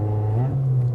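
A car engine in a racing simulator video game holds a steady, loud, close drone, with its pitch lifting slightly partway through the short burst. No one speaks.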